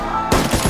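A sudden loud volley of rifle gunfire bursts in after a quiet moment, several rapid overlapping shots cracking close together.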